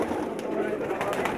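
Pakistani pigeons coo softly in a loft, a low continuous murmur of several birds close by.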